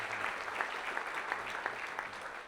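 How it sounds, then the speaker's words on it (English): Audience at a CrossFit event applauding a sponsor team, a steady dense wash of clapping at moderate loudness with faint crowd murmur beneath and no clear voices. "let's give them a huge round of applause."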